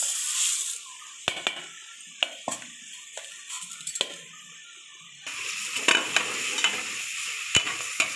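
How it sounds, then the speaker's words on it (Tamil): Onion and tomato sauté in a pan for chicken biryani: a gentle sizzle carries on underneath as a utensil clacks and scrapes against the pan, and the frying grows louder partway through. "இப்போ வெங்காய தக்காளிலாம் நல்லா வதங்கிடுச்சு."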